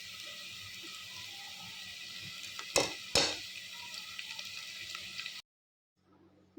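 A spoon scrapes and stirs masala powder through a pan, with a soft sizzling hiss running underneath and two sharper metallic knocks partway through before the sound cuts off abruptly.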